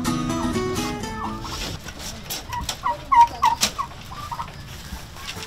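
Turkeys gobble in short bursts amid other farm fowl on a turkey farm, a few loud calls standing out against low background noise.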